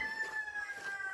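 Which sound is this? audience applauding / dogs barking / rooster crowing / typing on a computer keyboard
rooster crowing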